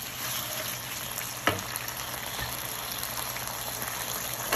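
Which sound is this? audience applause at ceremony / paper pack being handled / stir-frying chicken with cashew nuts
stir-frying chicken with cashew nuts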